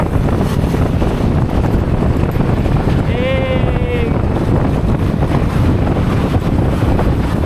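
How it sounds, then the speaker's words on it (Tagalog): Strong, cold wind roars steadily across the microphone during a scooter ride near Antipolo, Philippines, a constant heavy rush with a brief whistling tone partway through. "Grabe na yung simoy ng hangin."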